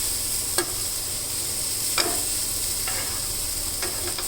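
Egg and oats frying in a pan, a steady close sizzle with a few brief stirring scrapes of the spatula, no talking.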